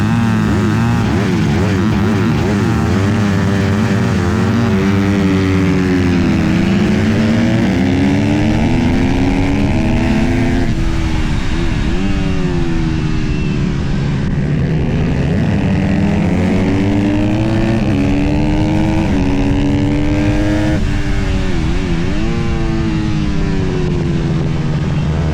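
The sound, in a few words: Honda CRF150R dirt bike engine racing, slipper clutch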